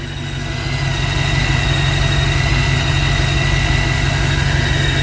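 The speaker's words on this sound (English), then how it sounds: "That's what a new engine idle's like." A new 302 car engine idles smoothly and steadily, a loud, close, low rumble with no talking.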